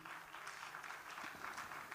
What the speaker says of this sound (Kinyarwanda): karibu hano mumukomera amashyi